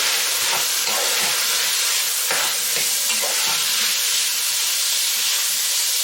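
Sliced long red paprika fries in a pan with a loud, dense, unbroken hiss, and a few brief stirring knocks rise above the sizzle.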